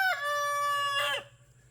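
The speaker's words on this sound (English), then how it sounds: "there's a hen in the nesting box." A hen in a nesting box lets out a single drawn-out, tonal cackle that rises and then trails off, heard close and clear over a faint steady hum.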